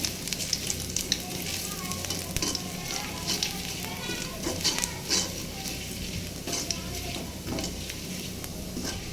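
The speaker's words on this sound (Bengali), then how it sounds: "এখন আদাটা দিয়েছি এখানে তেলে" Ginger sizzling and crackling in hot oil, a steady close frying hiss that runs throughout.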